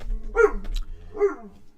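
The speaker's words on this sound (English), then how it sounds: "Sorry, that's my dog." A big dog barks twice indoors, loud and close, each bark deep with a short growly tail, a brief pause between them.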